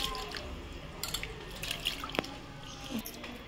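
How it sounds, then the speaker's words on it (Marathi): Water splashes and swishes as soaked urad dal and rice are rubbed and rinsed by hand, with running water and scattered drips throughout. "असेच 2-3 पाण्यामध्ये आपण आता हे धुवून घेऊ।"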